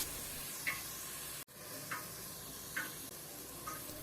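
Sautéing for Ambur biryani in a pan on low heat, a faint continuous sizzle with a few soft stirring scrapes, heard alone.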